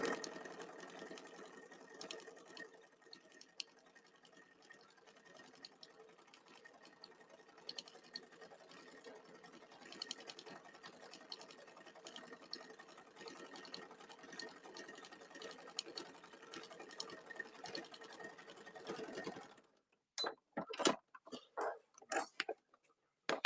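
A sewing machine runs steadily for about twenty seconds, stitching in the ditch along the seams of a patchwork bag panel, a continuous close mechanical whir that stops abruptly, followed by a few short handling clicks and rustles.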